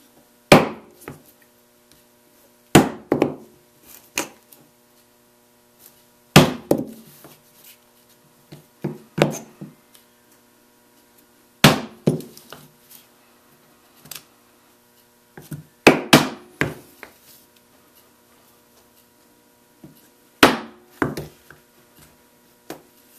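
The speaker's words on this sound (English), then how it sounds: "now let's get our hole punch and our mallet and punch our holes" A hole punch struck with a mallet into leather, a series of sharp close thuds, some single and some in quick doubles, spread unevenly with quiet gaps between.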